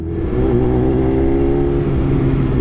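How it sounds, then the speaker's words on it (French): A BMW S1000RR motorcycle engine idles and revs loudly and steadily up close, a thick low rumble that holds for a few seconds. "comment elle fait du bruit sa moto"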